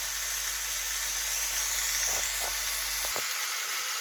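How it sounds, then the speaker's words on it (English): Pork sears in a cast iron pan with a steady, close sizzling hiss, a few brief pops rising out of it before the sound cuts off just before the end. "we're just going to let that sear on both sides for about 4 minutes apiece"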